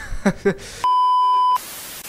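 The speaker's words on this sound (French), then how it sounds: "nous allons du coup éteindre nos réveils" In the video game Superliminal, an alarm clock sounds a single sustained electronic beep lasting under a second, loud and pure, preceded by a couple of brief muffled thumps and followed by quiet room tone.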